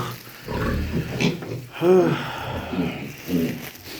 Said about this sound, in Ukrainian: Помітили свинок?